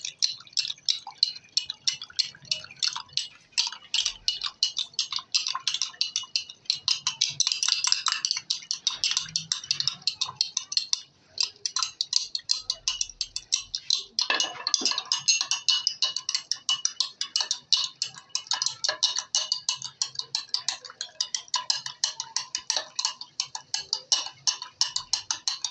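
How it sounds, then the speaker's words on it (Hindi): Coffee whisked by hand in a cup, a fast, steady stream of light ticking and clinking strokes that continues nearly nonstop, quiet and close, with only a brief pause midway. "कॉफ़ी को जितना फेंटा जाए इतनी अच्छी बनती है, इसलिए हम इसे"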